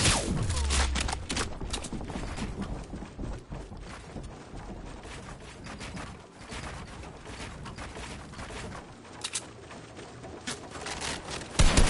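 Rapid volleys of video game gunfire crackle in dense bursts, close and loud, with brief lulls between the strings of shots.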